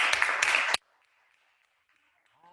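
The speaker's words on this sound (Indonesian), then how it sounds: "Mari kita berikan tepuk tangan untuk Tuhan." Worshippers in an Indonesian church service, held over Zoom, clap for God in a short loud burst that stops abruptly, leaving near-silence with faint distant tones and a slight stir at the end.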